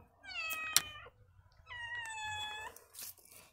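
A cat gives two drawn-out meows close by, clear and fairly loud, separated by a brief pause, with a faint rustle at the end.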